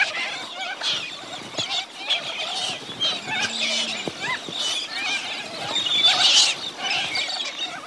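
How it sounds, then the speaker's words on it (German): A flock of Little Corella cockatoos calling at a cattle trough in the evening, a dense chorus of harsh, overlapping squawks and chatter, loud and close throughout. "Im bunten Gewühl auch einige weiße Vögel. Es sind Little Corellas"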